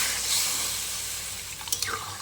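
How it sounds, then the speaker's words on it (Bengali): Water poured into a thickened curry whose oil has separated after frying the spices, a faint steady liquid rush and splash, quiet with no talking. "আমি এখন জল দিয়ে দিচ্ছি।"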